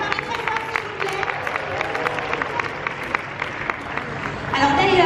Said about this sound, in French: on applaudit Disneyland Paris très fort